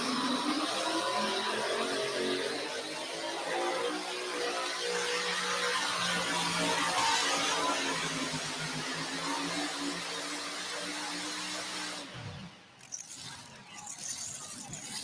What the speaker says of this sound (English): Listen to the RPM on these big block Chevrolets.